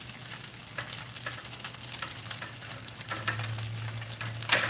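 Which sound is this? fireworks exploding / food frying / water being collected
food frying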